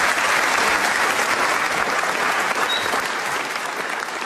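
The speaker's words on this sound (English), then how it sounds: "a round of applause for a brilliant company" Audience at a live comedy show in Holyhead gives a round of applause, a dense, steady wash of many hands clapping that stays loud throughout and eases slightly toward the end, with no talking over it.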